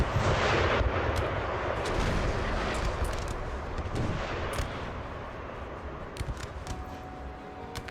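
Napoleon Total War battle with 12-pounder cannons firing: dense, continuous rumbling artillery booms and crackling gunfire, loud and sustained, with sharper individual shots breaking through toward the end and no talk.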